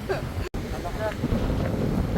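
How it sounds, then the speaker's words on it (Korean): Strong wind at a seaside harbour on Gadeokdo island, a constant close buffeting roar on the microphone with a brief dropout, and people speaking faintly underneath. "바람이 세가지고 날아갈 것 같아요"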